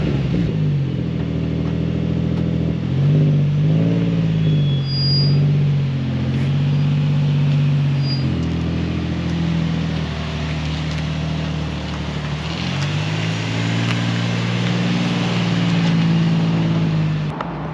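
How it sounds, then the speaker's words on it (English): A Nissan 350Z engine cold-starts and runs up with repeated revs, the exhaust note rising and falling loudly and close over nearly eighteen seconds. "Cold start."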